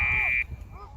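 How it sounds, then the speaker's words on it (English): A sustained electronic horn blares for under half a second at a youth boys' lacrosse game, marking the end of the first quarter, then cuts off abruptly, leaving faint crowd and voice murmur. "And buzzer is going to be the end of half."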